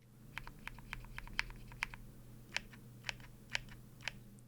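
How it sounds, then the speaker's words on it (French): Typing on a prebuilt custom mechanical keyboard with lubricated stabilizers, a close, quiet run of distinct clacky keystrokes, roughly a dozen presses at an uneven pace with no talk. "c'est un clavier custom prémonté"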